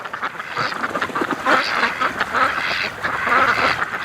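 Ducks quack repeatedly on a cold lake, a dense overlapping chorus of nasal calls that swells and stays loud and close with no talking.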